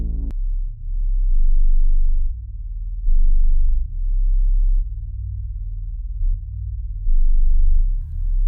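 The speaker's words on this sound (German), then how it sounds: "mit dem wir ausschließlich das Signal, was Hypobass hinzufügt, hören können" Soloed Hypobass signal from the CALDO audio plugin, a deep, pure sub-bass tone pulsing in sustained notes of changing length and pitch, loud and alone, with a brief high blip right at the start and a faint higher sound near the end.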